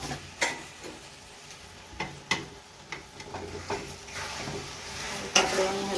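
Sugar being stirred into carrot halwa in a pan as it cooks, with a steady low sizzle and periodic sharp scrapes and clinks of the spoon against the pan, close up with no talk.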